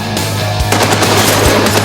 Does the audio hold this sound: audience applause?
no